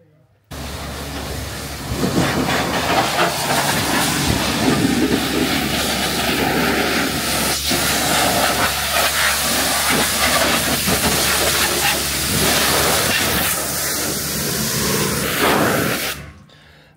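Water spray from a hose or pressure washer rinsing car parts from a Ford F-350 rear brake job: a loud, steady hiss that runs unbroken for about sixteen seconds.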